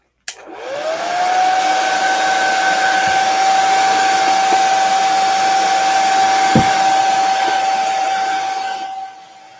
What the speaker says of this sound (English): I'm going to give it a quick air dry.